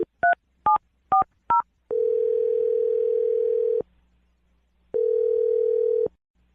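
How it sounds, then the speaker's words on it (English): A run of quick dialing tones gives way to a steady ringing tone, which stops, pauses, then sounds once more, clear and close. "We're going to dial the phone number for you right now"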